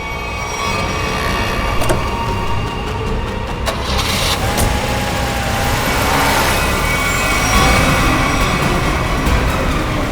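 A car engine runs and the vehicle pulls away, a continuous broad rumble with faint clicks and shifting tones that grows slightly louder toward the end, with no speech.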